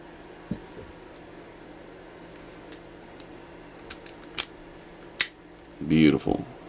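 Keys for a First Watch 50mm brass padlock jangle and clink in short, faint metallic bursts, growing busier toward the end, close by in a quiet room.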